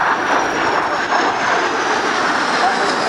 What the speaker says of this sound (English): coming in from the left for a photo pass